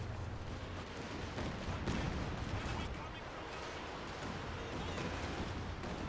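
Heavy ISU-152 artillery barrage in Company of Heroes 2 battle, a dense continuous rumble of distant shell blasts and gunfire with no clear pauses, steady and moderately loud throughout.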